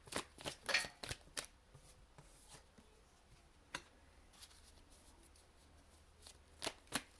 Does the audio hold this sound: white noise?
no